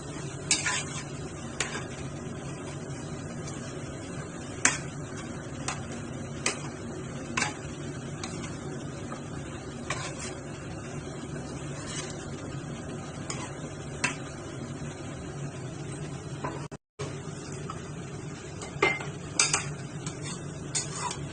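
A spoon stirs and scrapes masala egg curry in a pan with repeated clinks and taps over a soft background hiss, going on steadily.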